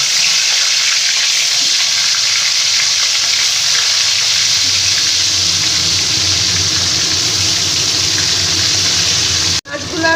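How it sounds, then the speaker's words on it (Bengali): Koi fish fry in mustard oil in a wok with a loud, continuous sizzle and crackle that holds steady before cutting off abruptly near the end. "মাছগুলো ভাজার জন্য কড়াইতে সর্ষের তেল দিয়ে দিয়েছি মাছগুলো এবার আমি ভেজে নেবো"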